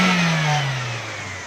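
Engine of a 1996 Xe car just after throttle cleaning, heard close and loud, its pitch sliding down as the revs fall back toward a smooth idle.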